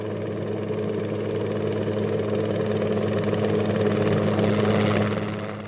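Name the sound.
helicopter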